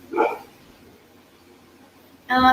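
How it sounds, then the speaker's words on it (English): A pet dog gives two short barks indoors, one near the start and one at the end, fairly close and moderately loud with quiet room between them. "You might hear my dog because, I don't know. It's just what my dog does."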